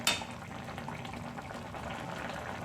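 Chicken curry fries on a high flame in a pan, giving a steady, soft sizzle and bubble with a brief louder splash at the very start.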